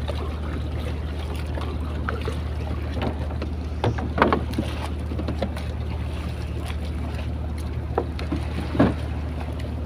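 A fishing boat heads back out to sea with a constant low engine drone, while water splashes and wind buffets the microphone now and then.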